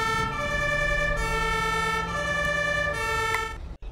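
Ambulance siren in an ambulance driving simulator game, a loud steady electronic wail held continuously for several seconds before cutting off abruptly near the end.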